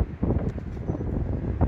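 Strong wind gusts buffet the microphone on the Blackpool seafront near Central Pier, producing a loud, uneven low rumble with no clear talk.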